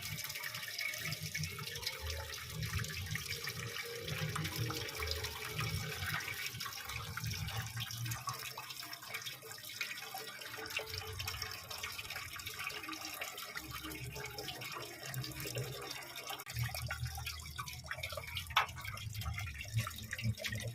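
Radiator coolant water draining out of a VST 16.5 hp power tiller, a steady close splashing trickle with dripping and gurgling that runs continuously throughout.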